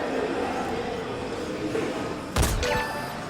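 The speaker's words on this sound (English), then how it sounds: "We're going to try and take him out from long distance here with our sniper rifle" A long-distance sniper rifle shot in Metal Gear Solid V rings out as a single sharp report, with a brief echoing tail over a steady game ambience and low background noise.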